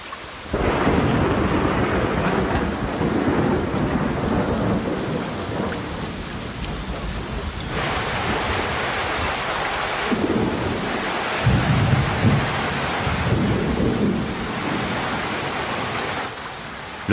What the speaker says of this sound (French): Et de nouveau la pluie, 10 fois plus violente.